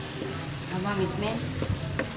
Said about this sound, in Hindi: ये जो टिंडे काट के रखे थे वो डाल देंगे।